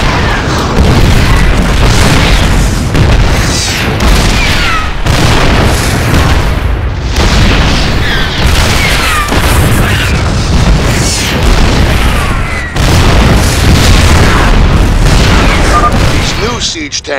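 Repeated heavy booms of siege tank artillery fire in StarCraft II roll through a dense, loud battle mix, with voices talking throughout.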